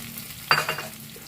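Breast chicken drops into a pan of softened onions, setting off a sudden loud sizzle that flares up and then eases into a quieter hiss, brief and close.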